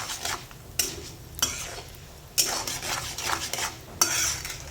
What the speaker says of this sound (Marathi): आपल्याला ही तेलातच अशी ह्या पद्धतीने तळून घ्यायची आहे.